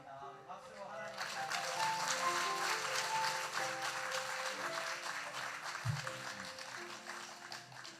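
A congregation applauds during a Sunday church service, a soft, steady wash of clapping that swells and holds for several seconds at a distance, with faint voices and a low bump partway through.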